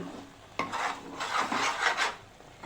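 A spoon scraping and rubbing through a thick coconut and jaggery laddu mixture in a pan, a few close rasping strokes in quick succession.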